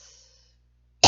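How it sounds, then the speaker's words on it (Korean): A single sharp cough bursts out at the end of a short quiet stretch, close and loud, from a man hosting a Korean gospel broadcast. "기침하게 만들고"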